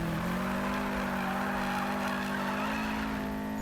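A Subaru WRX STI races in Need for Speed 2015, its engine holding a loud, steady high-rpm drone with faint tire noise underneath, continuous and close throughout.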